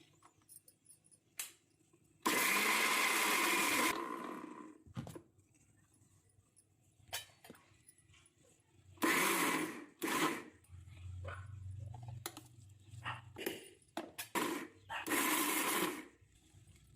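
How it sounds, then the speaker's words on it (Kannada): A mixer grinder coarsely grinding soaked lentils for palak vada, running in several separate loud whirring bursts with quiet pauses between them and faint kitchen clatter. "ಬೇಳೆನ ನುಣ್ಣಗೆ ರುಬ್ಕೋಬಾರ್ದು, ತರಿಯಾಗಿ ರುಬ್ಬೇಕು"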